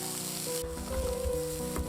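Chopped onion sizzles in a lightly oiled pan over medium heat, a steady soft frying crackle that continues throughout with a faint clink partway.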